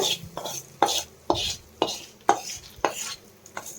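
Fried tempering is tipped into mango chutney and stirred: a spoon scrapes and knocks against a pot in a regular rhythm of about two strokes per second, close and clear with no talk.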